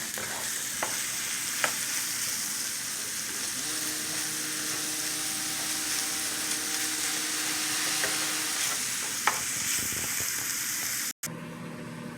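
Taco meat frying in a pan while being stirred, a constant close sizzle with occasional spoon scrapes and a faint hum underneath, no speech.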